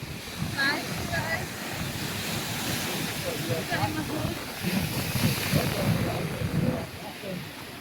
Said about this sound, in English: Sea's quite choppy.